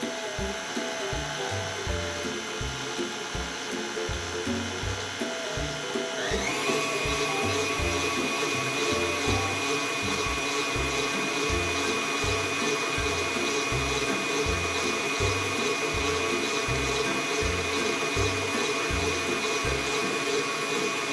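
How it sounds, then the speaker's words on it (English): A stand mixer fitted with a paddle beats fudge frosting for half-moon cookies, a steady loud motor whir with a rhythmic low thumping of the paddle, rising in pitch and intensity as the speed is turned up partway through. "put my paddle back on. And get that fudge frosting mixed up"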